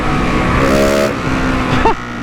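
A GasGas SM 700 supermoto motorcycle engine revs loudly and close by, its pitch rising and dropping through the gears, with a sharp blip near the end.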